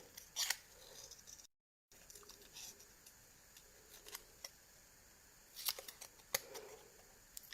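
Paper card being cut around with a pair of scissors, a few brief crisp snips scattered across a quiet background with a short gap partway through.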